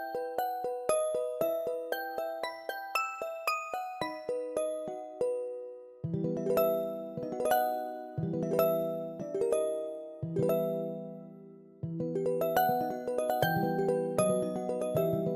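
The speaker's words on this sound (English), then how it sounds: "he's got some bells too" Bells ring in a series of clear, bright strikes, close and alone, each tone ringing out and decaying before the next, with denser clusters of strikes toward the end.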